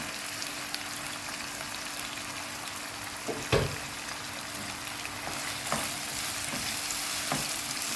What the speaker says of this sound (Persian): و هم میزنم و اینجا گوجم بهش اضافه میکنم